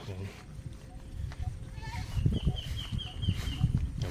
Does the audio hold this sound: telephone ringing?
no